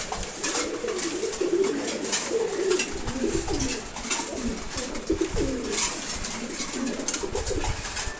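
Pigeons coo steadily and close by during a morning feeding, a dense layered chorus of low throaty calls from a mixed flock including checkers and silvers, with faint background noise and no talk.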